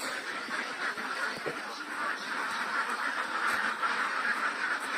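A flock of domestic ducks on a Philippine duck farm keeps up a dense, continuous chorus of quacking and chatter, steady and fairly close throughout, with no talk over it.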